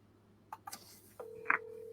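A phone being dialed to call someone: a few scattered key beeps followed by a steady tone and one bright DTMF burst, close and clear with no talking.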